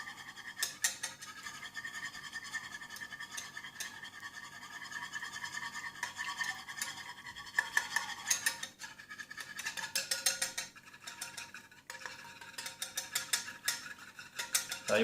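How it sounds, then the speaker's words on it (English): A whisk scrapes and clatters rapidly against a bowl while stirring melting coconut oil for homemade shaving cream, a busy rhythmic metallic scratching that runs close and continuous. "start whisking it around. As you can see, the coconut oil starts to melt"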